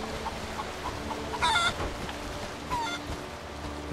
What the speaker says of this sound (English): Get out of the road, chicken!